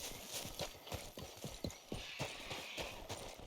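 A horse in Red Dead Redemption 2 trots along a road, its hooves striking in a steady, even clip-clop rhythm, fairly quiet throughout.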